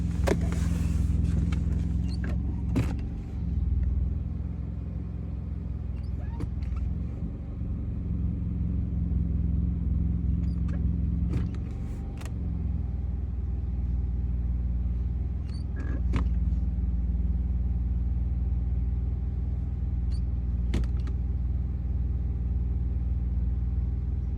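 A 2013-2018 Nissan Altima with a CVT transmission idles steadily as it is shifted through the gears about five seconds apart, a low constant engine hum broken by several sharp clicks and clunks.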